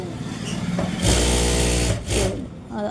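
A sewing machine stitching a blouse gives a loud, close one-second burst, then a shorter burst after a brief pause. A voice can be heard around the machine.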